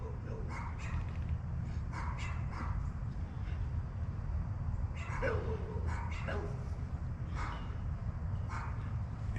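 A dog barks and yips in short repeated bursts outdoors against steady low rumble, seemingly at passing school students, with faint background noise throughout.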